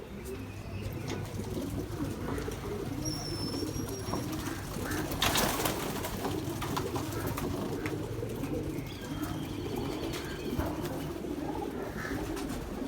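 Pigeons cooing in a loft, low soft repeated coos forming a steady murmur, with occasional chirps and faint background talk.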